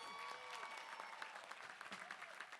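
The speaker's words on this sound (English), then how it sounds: "Let's give them a round of applause." Audience applause at the Central State University 2022 commencement ceremony, a steady wash of many hands clapping throughout, fairly faint and distant, with a voice briefly audible in the crowd.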